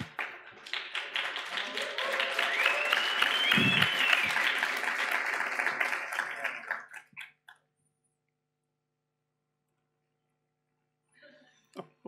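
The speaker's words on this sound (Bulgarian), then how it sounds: "Отборите могат да разчитат на окуражението на публиката," Crowd at a CSS Challenge contest during the Astea Conference applauds and cheers for the competing teams, a dense, loud burst of clapping that swells, holds for several seconds, then cuts off into silence before a faint stir returns.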